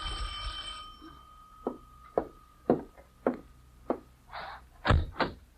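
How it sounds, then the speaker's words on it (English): Old-time radio drama sound effect of a doorbell at a one-room apartment, with a brief ring followed by a series of sharp knocking hits and short bell-like chimes, close and distinct with no talk. "Then the doorbell rang."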